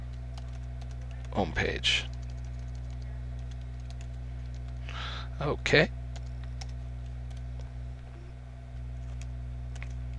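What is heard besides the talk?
typing on a computer keyboard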